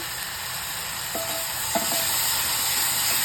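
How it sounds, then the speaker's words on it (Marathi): Oil sizzles steadily in a pan as green chillies fry for Maharashtrian urad dal ghut, a close, even hiss with a couple of faint clinks of stirring. "हिरवी मिरची आहे त्याच्यामुळं ते तेलामध्ये छान परतून घ्यायची"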